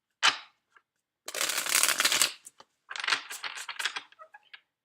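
Tarot cards being handled and reshuffled: a quick riffle, then a longer rustling shuffle, then a run of crisp, close-up card flicks and taps, with no talking.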